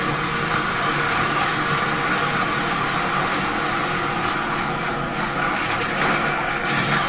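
Train in the video game Infamous rolling past on the track, a loud, steady rumble with rattling wheels and clatter that holds throughout.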